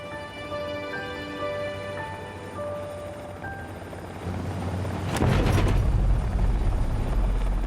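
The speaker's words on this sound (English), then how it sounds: "as the helicopter makes its way over the mountains" A helicopter flies over mountains, its steady rotor drone continuous and close, swelling louder and heavier toward the end with no voices.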